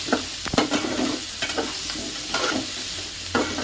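Potato pieces seasoned with turmeric and salt sizzle in hot oil while a spoon stirs them, giving repeated scraping clinks against the pan over a constant close frying hiss.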